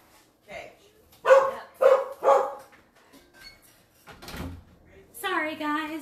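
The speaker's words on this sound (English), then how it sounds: "If there's somebody new at the door, they're going to start barking." A dog barks three sharp times in quick succession, followed by a door knock or thud and a whining, higher-pitched yelp near the end, in an indoor home.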